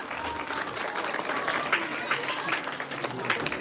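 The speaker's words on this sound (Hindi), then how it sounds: "जोरदार तालियों के साथ" An audience at a Hare Krishna devotional drama claps in a soft, distant, steady wash, with murmuring voices and chatter mixed in under the clapping.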